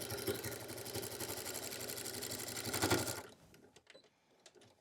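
A sewing machine stitches a dish mat bag, a fast steady mechanical rattle for about three seconds before stopping abruptly, followed by quieter handling clicks.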